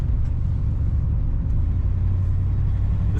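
A 1959 Edsel Ranger with a stock-sounding engine idles close by, a steady low rumble and hum with no talk over it.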